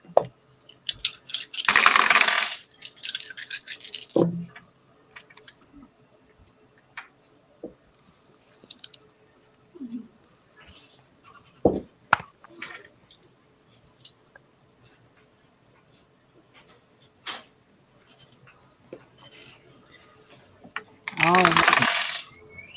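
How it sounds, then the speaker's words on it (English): Dice clatter and skitter across a hard surface in short bursts, with sparse clicks and taps in between; two louder rattling rolls stand out near the start and end. "You can roll 4d6s if that way you can hear like the clacky clacky."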